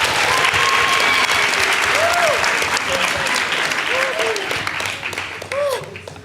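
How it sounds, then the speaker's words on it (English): Audience at a June 16 Youth Day debate at the Apartheid Museum claps for itself, sustained loud applause filling the room with a few voices calling out over it, tapering off toward the end. "please be self-indulgent and clap for yourselves for your amazing engagement"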